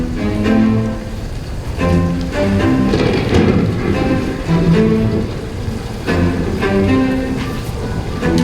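Light rain created as a sound effect for a school shadow theater play, a steady, dense patter of falling drops with occasional louder rumbling swells, continuous and fairly close, with no voices over it.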